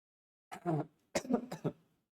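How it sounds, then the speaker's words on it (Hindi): Two rough, throaty coughs close by from a man with a dust allergy, the second a short burst of several hacks, with silence around them. "मुझे खांसी आ रही है"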